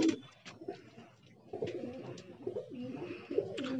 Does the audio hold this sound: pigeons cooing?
yes